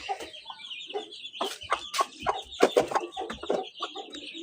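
Chickens cluck and chatter close by, a busy overlapping run of short throaty calls with a few louder squawks, no talking.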